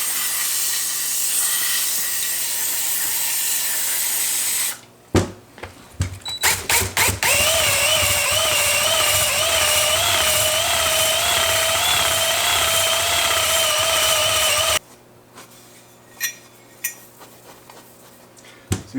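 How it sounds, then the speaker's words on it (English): A power brush spins against the cylinder of a Yamaha WR450 engine, a loud close whirring hiss that stops, gives several short bursts, then runs steadily for about eight seconds before cutting out. "We're really technically not honing, this is a brush, so we're just cleaning."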